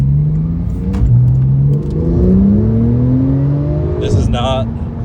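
A 2017 Porsche 911 Turbo S pulls under moderate acceleration, its engine note rising steadily in pitch through the clip with a gear change partway, heard from inside the cabin alongside a brief chirp near the end.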